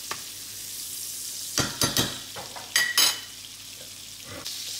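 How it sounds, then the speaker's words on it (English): A steak sizzles loudly in a pan while being basted with butter and rosemary, a constant hiss broken by several sharp bursts of spattering and metallic spoon-on-pan clinks. "now what this is gonna do is that is gonna flavor your butter. And then you can start master basting all over it"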